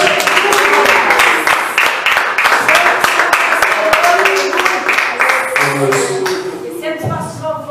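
Rhythmic congregational clapping during church worship, with loud, evenly spaced claps over singing and music that fades toward the end.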